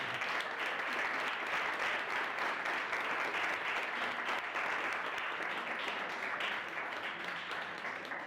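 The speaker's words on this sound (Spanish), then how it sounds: "vamos a aplaudirle a la mamá de Florencia." An audience applauds a guest's mother at a workshop, with dense, sustained clapping from a crowd that stays even and fairly loud throughout, then eases slightly near the end.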